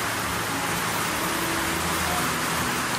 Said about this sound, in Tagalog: Inabot na po kami ng ulan. Malakas po ang ulan.